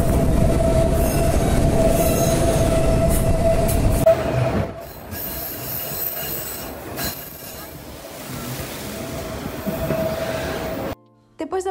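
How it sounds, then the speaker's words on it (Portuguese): A passenger train runs along a railway near Morretes, a loud continuous rumble with squealing wheels and steady clatter that eases into a quieter rolling roar, then cuts off abruptly near the end. "o trem passou muito rápido"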